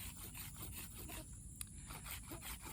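A knife spine scrapes leaf fibers off a plant stalk being made into a friction-fire hand drill, giving a steady run of close, rhythmic rasping strokes with no talking.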